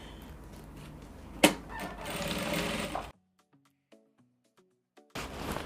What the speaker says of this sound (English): I'm done hemming the bottom part of my gown